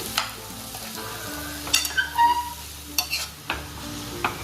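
Masala and potatoes for vada pav are stirred and fried in a pan, with a steady low sizzle and several scraping strokes of a spoon, close and moderately loud.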